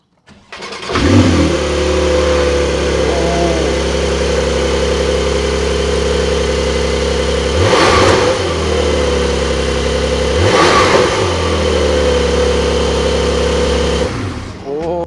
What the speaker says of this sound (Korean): 시동 소리 한번 시동을 켜보겠습니다